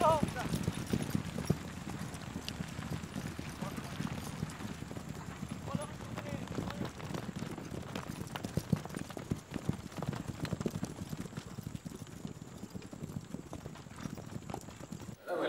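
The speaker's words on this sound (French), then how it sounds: "c'est un cheval" Steady clip-clop of horse hooves throughout, a continuous rhythmic trotting at moderate distance with faint background noise.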